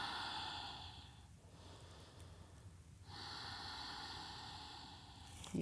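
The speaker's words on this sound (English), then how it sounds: "get your Ujjayi breath going" Ujjayi breathing during a yoga flow is heard as slow, hissing, ocean-like breaths, a long inhale, a pause, then another drawn-out breath, close and quiet with no talk.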